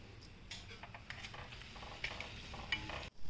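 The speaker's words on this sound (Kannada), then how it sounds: "ನೋಡಿ ಇವಾಗ ಇದು ಚೆನ್ನಾಗಿ ಮರಳ್ತಾ ಇದೆ" Village-style kattu saaru on the stove, with cooked toor and moong dal added to a pot at a rolling boil, giving a steady close bubbling and sizzling texture with soft stirring clicks and no voices.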